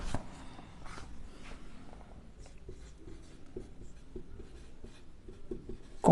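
Pen writing accounting entries on paper, soft quiet scratching strokes in short bursts close to the microphone.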